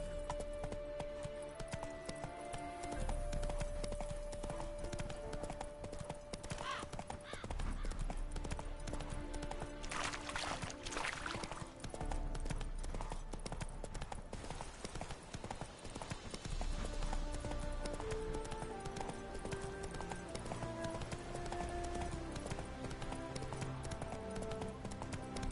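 Roach, a horse in the Witcher 3 video game, gallops with a steady, rapid clip-clop of hooves running throughout, set against a continuous game music score.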